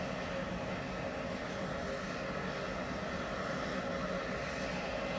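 Jet aircraft engines roar steadily at Edinburgh Airport, a loud continuous broadband rush with no break and no voices.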